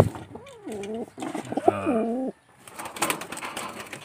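A young pigeon in a loft coos in a few repeated rising-and-falling phrases, close and fairly clear, followed by a softer stretch of rustling and faint movement.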